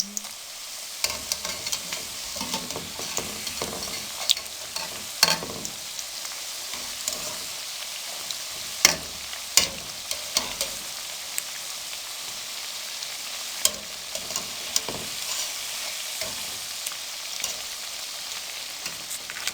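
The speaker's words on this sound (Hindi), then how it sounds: "तमाम बहुत अच्छे से फ्राई हो चुके हैं, गोल्डन ब्राउन हो चुके हैं" Donuts deep-fry in hot oil until golden brown, a steady soft hiss with scattered pops and crackles like light rain, plus occasional clicks of a utensil turning them.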